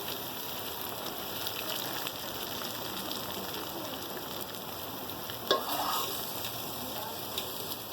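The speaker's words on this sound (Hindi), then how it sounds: "तड़का लगाएंगे प्याज का।" Hot oil sizzles and crackles steadily as onions fry in a pot, a dense hiss with a brief louder spatter midway.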